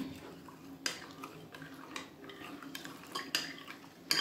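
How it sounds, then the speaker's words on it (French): A utensil stirs sweet African fritter batter made with natron in a bowl, giving soft, irregular scraping and clinking strokes, close and fairly quiet, with no talking. "Donc je vais mélanger jusqu'à ce que ça soit bien homogène."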